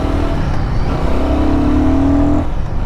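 Royal Enfield Guerrilla 450 motorcycle ridden through city streets, its engine holding a steady loud drone with a rising rev tone toward the end, close and continuous without talk.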